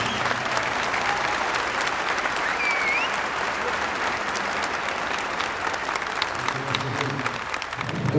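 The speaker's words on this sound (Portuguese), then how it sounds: "Nós queríamos homenagear o companheiro Expedito também com uma salva de palmas." Gathered audience at a tribute to Expedito gives a sustained round of applause, a dense, even roar of many hands clapping at steady volume, with faint voices mixed in near the end.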